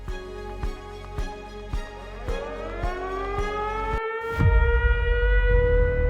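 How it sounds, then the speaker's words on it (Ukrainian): A civil-defense air-raid siren sounds during an alert in Ukraine. Its wailing tone rises and carries steadily, with regular thumps underneath at first, and then swells louder and fuller. "у нас зараз повітряна тривога"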